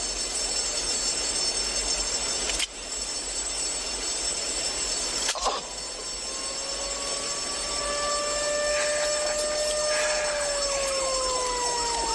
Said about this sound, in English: Sitting there watching the train go through town.